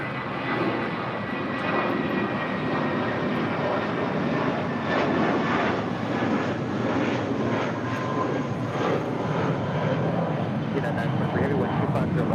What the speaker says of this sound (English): heading back to Tokyo Haneda in the 787-9 Dreamliner, number 3 for departure here on the south side.